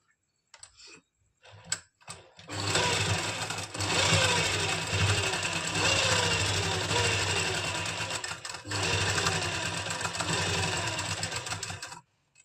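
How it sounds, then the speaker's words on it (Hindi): A sewing machine stitches pleated kurti fabric in two long, steady runs after a few short starting clicks, close up with no voices. "तो हम इस तरह से यहाँ पे इसको स्टिच कर देंगे।"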